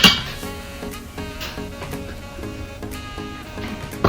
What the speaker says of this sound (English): I think I'm going to put down the liquid a little bit on saute